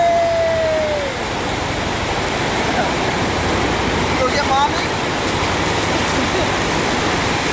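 Ocean surf washes in as a steady loud roar of breaking waves at the water's edge, with people talking over it.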